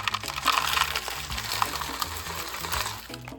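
Water splashes and trickles steadily as gold panning material is rinsed, close by, with light scraping and clinking of gravel underneath.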